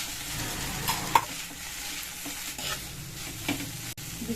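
Hot cooked rice being stirred into vegetable fried rice in a hot pan, giving a soft, steady sizzle with scraping and tossing sounds at close range and no talking.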